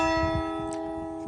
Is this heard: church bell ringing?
yes